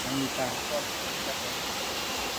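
Steady broadband rush of water pouring at Aminta Falls, a waterfall in Silang, filling the whole moment at an even level, with faint voices briefly under the roar.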